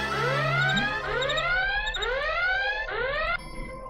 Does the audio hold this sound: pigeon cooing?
no